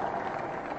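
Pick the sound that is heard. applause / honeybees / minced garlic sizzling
applause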